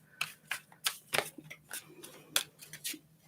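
Tarot cards are shuffled by hand in quick crisp riffling bursts, about a dozen short papery flicks close to the microphone in an otherwise quiet room.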